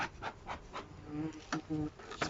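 Honeybees buzzing around a spare hive of a medium-sized colony outdoors, a close, wavering hum with insects passing near, under intermittent handling noises and breaths.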